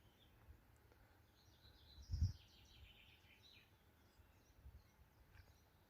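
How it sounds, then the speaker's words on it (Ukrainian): Faint birds sing and chirp outdoors in the morning, a few scattered thin calls spread over several seconds against quiet background hiss, with one short low thump midway. "Так цікаво, що пташок чути і без мікрофона."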